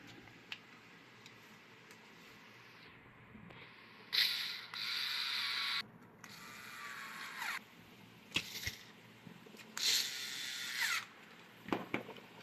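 Screws being driven into the motor housing of a 12-inch rechargeable table fan, a series of short ratcheting, creaking bursts of a screwdriver or drill with pauses between, close and fairly quiet.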